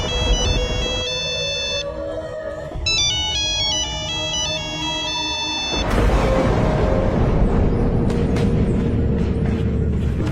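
A mobile phone rings with an incoming call, its bright electronic ringtone melody repeating loudly for several seconds before a burst of car noise and rumble takes over inside a car.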